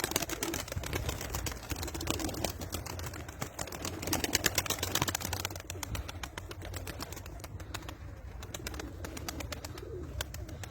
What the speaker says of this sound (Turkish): işte Beyaz İstanbul güvercinin kümesleri kümesindeki kuşlar bunlar